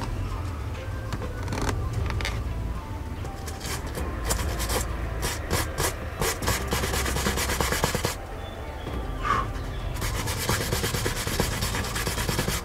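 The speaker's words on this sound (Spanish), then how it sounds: "esta zona ya está seca, así que vamos a lijarla" Steady abrasive rubbing of sandpaper over dried body filler on a BMW E46 323Ci, continuous strokes up close with brief pauses, no talking.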